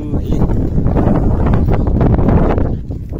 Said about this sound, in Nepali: एकदम हावा यतातिर चिसो हुने रहेछ यार, हावा चल्ने